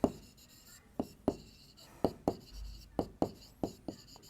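A pen writing a conclusion by hand in a maths exercise, a series of brief, close, crisp scratchy strokes in an irregular rhythm, about a dozen of them, with faint speech now and then.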